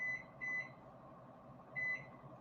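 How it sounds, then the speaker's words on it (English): Kitchen timer being set, giving a few short high electronic beeps in irregular bursts over quiet room noise, no talking. "So 12 minutes on the kitchen timer."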